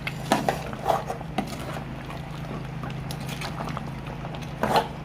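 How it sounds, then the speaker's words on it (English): Nsala soup with uziza leaf being stirred in a pot over a gas cooker: soft scraping and light clinks of a utensil against the pot, over a steady low hum. "once I add the Uziza leaf, I just stir it and cover the pot"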